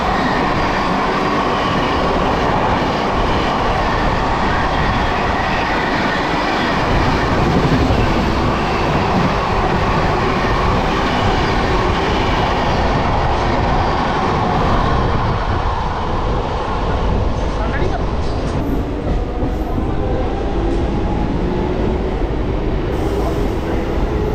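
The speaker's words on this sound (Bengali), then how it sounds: "দেখুন আমাদের ট্রেনটা কিন্তু বাঁদিকে ঢুকে যাচ্ছে" A local train from Howrah to Digha rumbles along steadily, continuous loud roar of wheels and carriages with faint rhythmic clatter heard from inside the coach, unbroken throughout.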